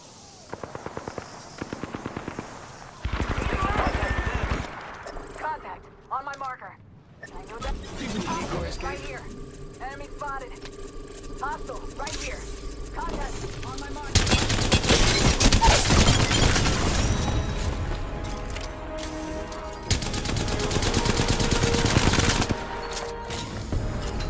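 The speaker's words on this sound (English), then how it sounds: "Opening fire on the enemy. Enemy, I am taking fire, friends." Bursts of automatic weapon fire crackle through an Apex Legends firefight, with loud rapid volleys alternating with quieter gaps, layered with game voice callouts and effects.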